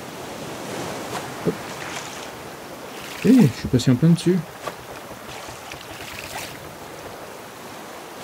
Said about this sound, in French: Les vagues, ça aide pas à choper.